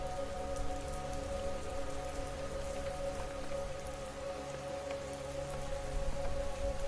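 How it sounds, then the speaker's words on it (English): Steady rain pours down with a gusting wind, a dense continuous hiss of drops on surfaces with a faint low rumble, unbroken and without voices. "Water mist being sprayed in the air. A peaceful rain flying with the wind."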